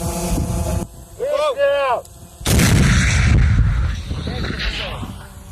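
An SPG-9 recoilless anti-tank gun fires in a sharp, heavy blast that rolls out into a long roar and rumble, with brief voices and outdoor wind noise before it.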